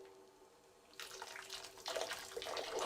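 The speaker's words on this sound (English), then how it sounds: "Hot water is poured onto the wood." Hot water pours onto a strip of shaved wood being softened for bending in a Japanese carpentry workshop, a splashing, trickling stream that starts abruptly after a quiet moment and grows fuller.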